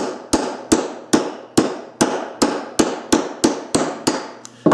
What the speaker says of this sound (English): taking a hammer and go